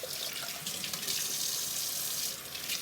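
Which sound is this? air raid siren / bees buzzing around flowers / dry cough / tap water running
tap water running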